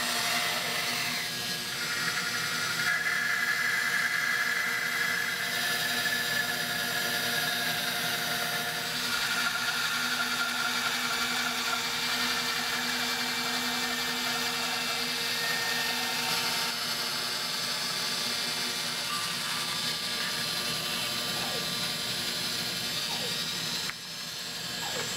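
A power tool cuts lengthwise through a large log beam in a workshop, a loud, steady whining drone that runs almost unbroken for about twenty-five seconds, dipping briefly near the end.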